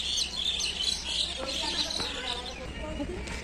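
Birds chirp in the morning sky over farm fields, a dense high twittering chorus at a distance that runs throughout, faint under soft background noise with a few scattered louder calls.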